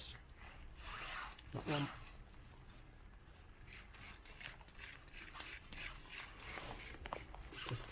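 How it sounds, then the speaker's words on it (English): A Kia Ceed brake caliper bolt has its threads cleaned of gunk, giving a close scraping, rasping rub with small mechanical clicks, continuous and moderate, while someone briefly speaks. "Just get any gunk out of the threads"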